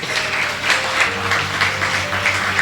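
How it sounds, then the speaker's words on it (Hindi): Audience applause after a Hindi poem recitation, a dense burst of clapping that carries steadily through a short stretch without speech. "थोड़ी तालियां चाहूंगा आपकी।"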